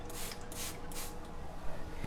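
Water sprayed onto a wet cement-paint finish on a tiled wall, giving soft hissing bursts of spray that come and go over a low, steady background.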